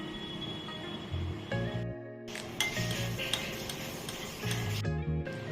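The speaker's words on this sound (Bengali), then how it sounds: "দইটা আমি এখন এখানে দিয়ে কিছুটা ফেটিয়ে দেব" Yogurt for doi bora is whisked in a bowl, giving repeated light clinking, scraping strokes of a utensil against the dish, close and steady, with no talk.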